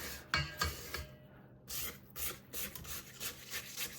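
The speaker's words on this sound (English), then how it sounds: "I'm gonna scrape the sides real quick." A spatula scrapes the sides of a mixing bowl of cookie batter, a quiet run of short rubbing swipes in an uneven rhythm, close with no talking.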